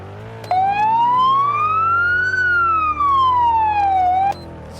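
A police siren in the Roblox game Polish Lithuanian Car Driving wails in one long smooth sweep, rising then falling, loud and close, cutting off abruptly after a few seconds.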